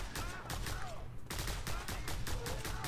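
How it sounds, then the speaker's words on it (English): Rapid bursts of gunfire at a soldier in the open-world action game Just Cause 2, a loud, continuous volley of shots with repeated sharp cracks filling the whole stretch. "Shoot this soldier."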